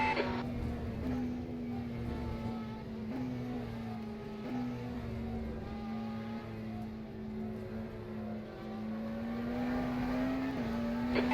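Race cars in the rFactor 2 sim racing game during a two-hour endurance event, with a steady, moderately loud engine drone whose pitch rises and falls with gear shifts.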